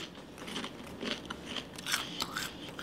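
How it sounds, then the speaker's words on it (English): Crunchy Burger King onion rings being bitten and chewed close up, with a run of crisp, uneven crunches and crackles repeating over a few seconds and no talking. "I tried one of these onion rings, y'all. They're really good."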